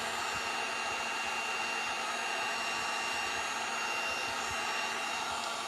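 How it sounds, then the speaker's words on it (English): A heat tool, likely a hair-dryer-style heat gun, blows steadily and continuously to warm glue on Dollar Tree farmhouse wall decor, a loud even whooshing hiss with no pauses and no talking. "I'm going to try and heat this glue up now that the letters are removed and see if I can't scrape it off"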